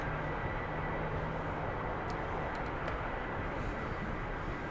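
A jet's afterburner roars in a flight simulator game with a MiG-23 and a two-seat Rafale B, a steady broadband rush that fills the whole clip at a constant level with no talk.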